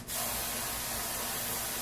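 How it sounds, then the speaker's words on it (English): A steady, continuous aerosol hiss from a Dove dry spray deodorant can, close up, lasting nearly two seconds without pause. "today I'm gonna use this Dove spray"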